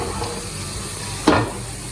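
A sudden short sizzle bursts out as a hot garlic tempering hits masoor lentils, fading quickly back into a low background hiss.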